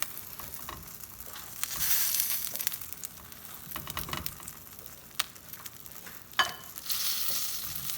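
A tortilla sears in a hot pan for stacked quesadillas, giving a steady close sizzle with occasional scrapes and taps, no talking.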